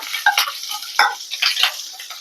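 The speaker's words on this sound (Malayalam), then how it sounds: "നല്ലപോലെ ഒന്ന് മിക്സ് ചെയ്ത് കൊടുക്കാം ഇഞ്ചി വെളുത്തുള്ളി ചെറുതായിട്ട് വാടി വന്നിട്ടുണ്ട്" Ginger and garlic stirred in a hot pan, with a light sizzle under several quick scraping, clattering strokes of a utensil against the pan, close and fairly loud, no voices.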